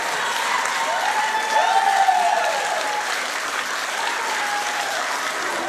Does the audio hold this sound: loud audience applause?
yes